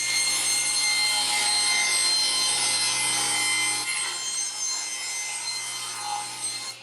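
Hand saw cutting through a wooden router fence piece, a continuous close rasping stroke that holds steady and loud, easing slightly near the end.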